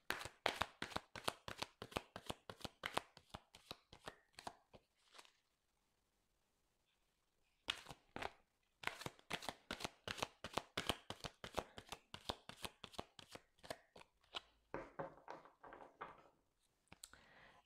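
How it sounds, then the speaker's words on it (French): Oracle cards are riffled and shuffled up close in a quiet room, quick runs of sharp papery slaps in two long bursts separated by a few seconds of silence, then softer shuffling at the end. "Alors, on va tirer 3 cartes pour ça."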